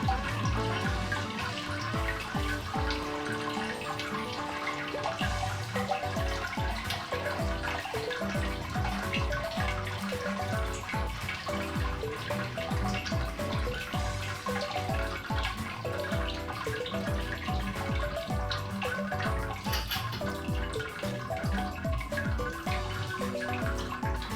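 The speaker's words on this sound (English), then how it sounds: "So I'm just going to open the tap up here" Steady, continuous rush of warm water pouring from the tap of a Brewzilla Gen4 brewing kettle into a vessel during beer brewing, with a bubbling, splashing texture that stays constant throughout.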